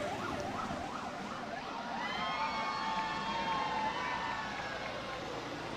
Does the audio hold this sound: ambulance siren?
yes